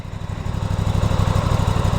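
An Aprilia RS660 inline two-cylinder sport motorcycle engine idles close by with a steady, throaty, rapid pulsing rumble, loud and continuous with no voices.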